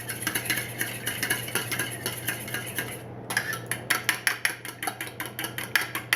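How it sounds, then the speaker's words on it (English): Muffin batter being mixed in a bowl, a rapid rhythmic series of utensil strikes and scrapes against the bowl's sides, briefly pausing midway before resuming at the same brisk pace. "Now we want to thoroughly mix"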